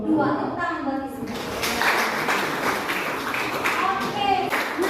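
Classroom hand clapping during a maths lesson, a burst of applause from a group of students carrying steadily through the clip with voices mixed in.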